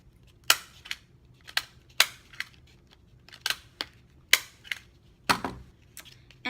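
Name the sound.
stapling metallic tape crown strips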